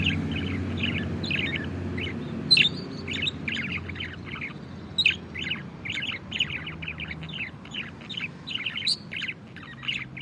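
Dense, rapid chirping and twittering of young budgerigars, many small calls overlapping continuously at close range with a low background hum.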